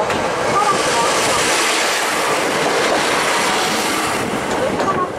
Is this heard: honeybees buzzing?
no